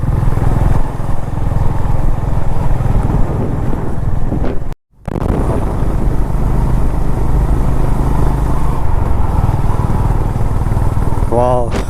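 A motorcycle ridden on a hilly road up Mullayanagiri in Karnataka, with its engine drone close and continuous under heavy wind buffeting on the microphone, briefly cut by a short gap, while a rider talks over it.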